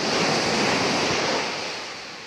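Sea waves wash steadily onto the shore at a Goa beach in Vasco, a broad continuous roar of surf mixed with wind that slowly fades toward the end, with no voices.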